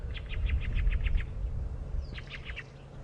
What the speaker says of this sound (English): Birds calling. The guys that we're hearing now are